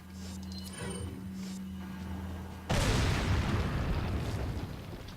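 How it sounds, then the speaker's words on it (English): A grenade goes off in Resident Evil 4 after a quieter stretch with a low steady hum, erupting into a loud, close, broadband blast that rumbles and slowly fades over several seconds. "This is the part where the grenade comes in handy."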